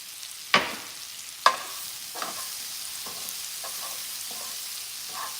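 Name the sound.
stirring and frying smoked paprika in pan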